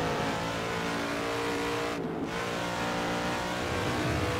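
A race car in the Assetto Corsa video game with a five-speed gearbox, its engine droning steadily at high revs, loud and continuous with a brief dip around a gear change.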